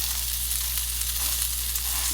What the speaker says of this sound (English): So that's frying.